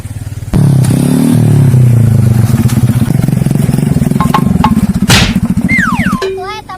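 A motorcycle engine revs loudly and close, a rough sustained roar with rattling clatter, fading near the end as other noises cut in.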